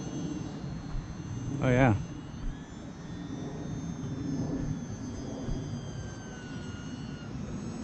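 A small E-Flite UMX Cirrus SR22T RC plane flies inverted, its electric motor giving a steady faint whine throughout, with a brief spoken exclamation near the start.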